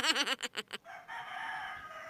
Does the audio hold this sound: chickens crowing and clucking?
yes